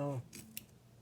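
Scissors cutting off strips of vinyl during a sewing project, heard as a couple of short snips after a brief hum, close and quiet.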